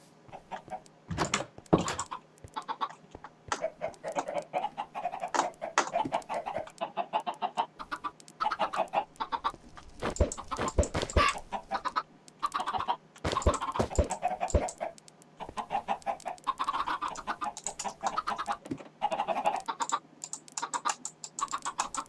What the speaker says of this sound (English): Now it's time to start farming these chickens.